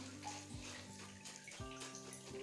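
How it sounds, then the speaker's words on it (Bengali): Hot water poured over puffed rice (khoi) in a home kitchen, a faint close trickle and splash with gurgling surges and bubbly ringing tones. "এই যে খইয়ের মধ্যে এবার গরম জল ঢেলে দেব।"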